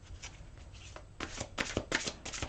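A deck of angel cards is shuffled by hand in a few quick, crisp riffling bursts that grow louder toward the end, close and alone with no talk.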